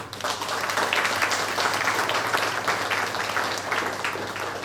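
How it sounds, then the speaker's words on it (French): An audience claps at the launch of a charity choir's new album, a sustained, even wash of many hands applauding in a hall, steady throughout without voices over it. "je vais dire pour applaudir les autres pour ce travail"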